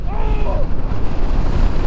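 Strong wind buffeting the microphone outdoors beside a Yamaha Xmax scooter at Amata City, Chonburi, a loud continuous low rumbling roar filling the clip.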